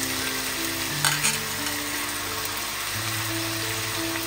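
Chopped tomato hits a hot frying pan, giving a loud, steady sizzle with a brief burst of clatter and spatter near the start, close and without speech.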